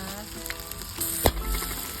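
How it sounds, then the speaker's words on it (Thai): Steady sizzling and frying of eggplant being stir-fried in a pan, with occasional scraping and stirring clatter, close up and continuous, no voices. "เตรียมกระทะค่ะ เราจะผัดมะเขือกันนะคะ"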